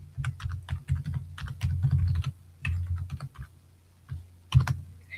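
Typing on a computer keyboard, close and fairly loud, with bursts of rapid clicky keystrokes broken by short pauses, no voices.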